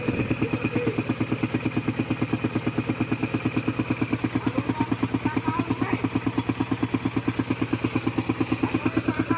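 A small engine-driven water pump drains a pond, chugging in a fast, even rhythm of loud pulses that holds steady and close throughout without a break.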